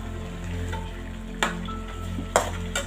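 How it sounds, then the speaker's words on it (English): Meat and meat stock sizzle in a pot for bitter leaf soup, a steady low frying hiss broken by a few sharp clinks or stirring knocks. "So let this sizzle in. In goes my meat"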